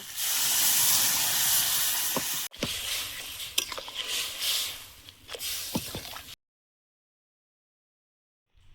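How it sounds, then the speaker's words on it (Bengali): Dal poured into a pan holding a fish head with spices, catla fish head, bursting into loud sizzling and hissing steam, followed by scattered stirring clicks and squishes before the sound cuts to silence. "এবার ডালটা দিয়ে দেব।"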